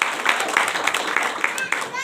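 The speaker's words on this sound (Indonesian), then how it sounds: "Tepuk tangan yang paling meriah buat Tuhan Yesus." Congregation applause during a church service, a brisk run of hand claps with sharp regular peaks across the whole stretch, close and fairly loud.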